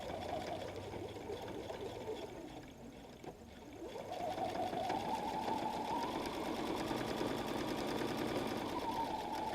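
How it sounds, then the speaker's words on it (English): Sewing machine stitching down a chalk line on a folded messenger bag, running steadily at close range with a brief slowdown midway before resuming its continuous whir. "I'm going to sew down that chalk line"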